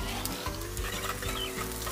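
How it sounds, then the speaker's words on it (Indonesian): Sliced ingredients for orek tempe sizzle and crackle in a hot pan as they are stirred, a continuous close frying hiss with occasional scraping. "Next, kita tumis semua bahan yang sudah diiris tadi. Diaduk-aduk dulu."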